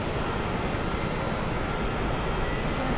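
An aircraft engine in the DCS World flight simulator drones in a steady, dense roar with no talk over it.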